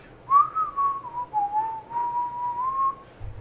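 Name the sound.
person whistling a melody imitating a song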